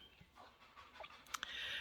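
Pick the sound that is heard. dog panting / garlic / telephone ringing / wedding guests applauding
dog panting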